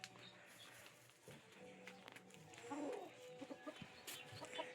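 Chickens cluck softly in the distance amid faint outdoor background noise, with occasional quiet murmurs.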